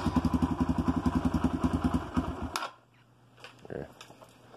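A small engine on a homemade trailer build, started cold without the choke, runs in a loud rapid pulsing putter for about two seconds, then cuts out abruptly, leaving a quiet hum and a few faint knocks.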